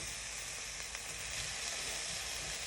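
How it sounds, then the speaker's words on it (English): Cabbage sizzles and fries steadily in a hot pot as it is stirred, a continuous close hiss with faint scraping under it and no talking. "Once I add the cabbage to it, I'm just gonna basically give it a stir."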